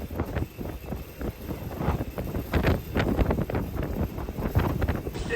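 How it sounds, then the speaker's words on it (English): Strong wind buffeting the microphone outside a fast-moving Kia e-Niro electric car on a road trip near the sea at night, loud rapid irregular gusts and rumbles filling the whole span. "It's so windy."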